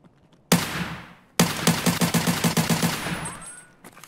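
In Escape From Tarkov, a single loud gunshot cracks and echoes, then after a short gap a rapid burst of automatic fire follows, ringing out close with no talking.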